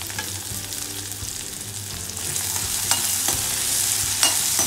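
Raw chopped onions and green chillies sizzle and fry in a pan for poha while being stirred, a steady close crackling hiss broken by occasional sharp scraping clicks of the spoon.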